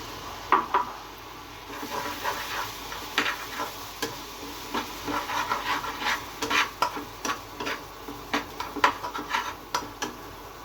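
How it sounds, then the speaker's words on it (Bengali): Softened shredded cabbage being stir-fried with egg, producing repeated close scraping and tapping spatula strokes against the pan over a faint sizzle, in irregular bursts throughout. "পাতাকপিটা নরম হয়ে গেছে, এখন এই ডিম দিয়ে দেবো ভিতরে।"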